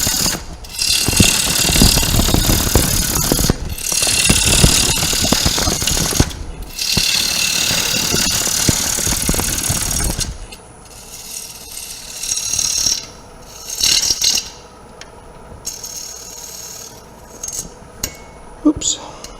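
Wood turning on a lathe with a pull cut produces loud, rough cutting and scraping bursts over a running lathe, then quieter intermittent tool contact, close by.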